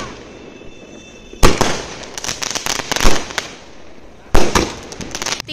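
Diwali firecrackers burst in loud, sharp crackling volleys, a long dense run followed by a pause and a second close burst, with faint voices underneath.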